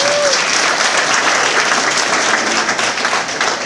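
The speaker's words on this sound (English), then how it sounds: "Everybody give J-Dub a round of applause." Loud, dense applause from an audience filling the room, steady clapping with a bit of crowd noise throughout, fading slightly toward the end.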